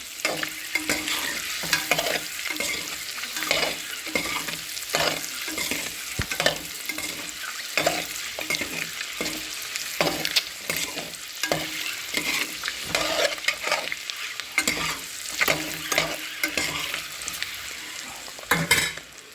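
Egg masala frying in a pan with steady close sizzling, broken by frequent scraping and tapping strokes of a spoon stirring against the pan.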